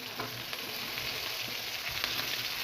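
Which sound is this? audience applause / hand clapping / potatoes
potatoes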